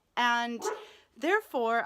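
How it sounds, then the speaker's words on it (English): Dogs bark and yip loudly and close by, several harmonic barks mixed with a voice speaking over them. "I'm so sorry about the dogs barking"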